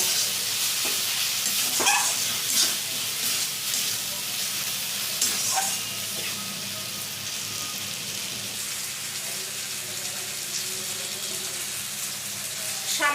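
Chicken with turmeric and spices frying in a pan while being stirred, a steady broadband sizzle with scraping stir strokes throughout, close and fairly loud, with no talk.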